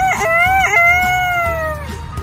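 A person's voice mimics a rooster's cock-a-doodle-doo, loud and close, with a rising stuttered opening breaking into a long sustained wavering crow that fades at the end.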